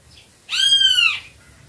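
A single loud, clear great kiskadee call rings out nearby, one sustained harmonic note lasting under a second against quiet background hum.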